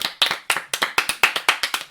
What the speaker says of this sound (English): All right, 5-minute clap break.